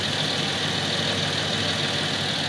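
A Mercedes ML320 idles up close with a steady, even drone and a diesel-like clatter, running under electrical load with the headlights, rear defroster and seat heater on.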